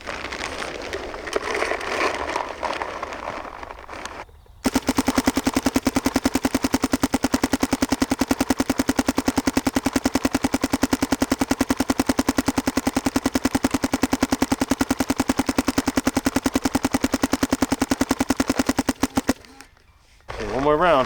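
A paintball marker rips through a long, steady burst of rapid fire fed by a Dye MXR loader, dense machine-gun-like shots running nonstop for about fifteen seconds after some background noise and voices.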